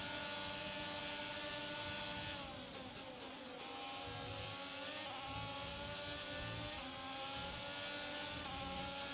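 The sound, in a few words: Daniel Ricciardo's F1 car passing in F1 22 video game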